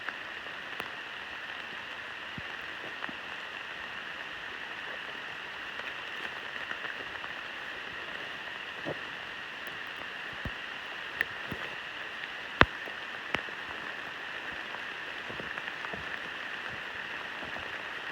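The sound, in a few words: pouring rain in a Maine forest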